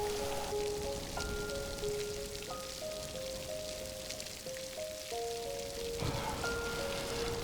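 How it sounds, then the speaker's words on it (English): Steady rain falls outdoors in Glencoe in the Scottish Highlands, a continuous even hiss of drops on surfaces with no voices, while a soft sustained tonal drone runs faintly underneath. "the great thing about the rain being on is it keeps the midges away"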